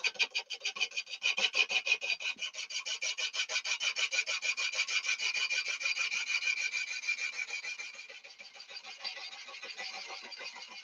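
A wood lathe cuts a lamp part with a steady, rapid, raspy scraping chatter that is moderately loud and continuous. It eases slightly toward the end, and no one speaks.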